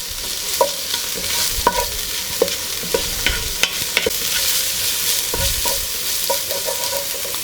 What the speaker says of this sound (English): Alright, we'll give this a quick stir.